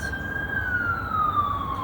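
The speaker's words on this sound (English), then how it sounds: "I know you hear the sirens going on behind me." Emergency vehicle sirens wail outdoors, one steady tone sliding slowly downward in pitch, moderately loud over low traffic rumble.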